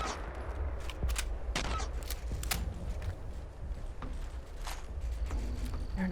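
Gunfire in Fallout 76, a scattering of sharp, quiet shots in irregular bursts over a low ambient rumble, with a few louder cracks among fainter ones.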